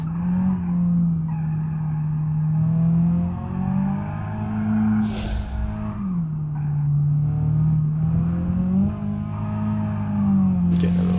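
Car tyres skidding and squealing on a Toyota Supra in the BeamNG.drive driving game, a loud sustained wavering squeal over a steady engine drone, sliding on and off through the run with no voices.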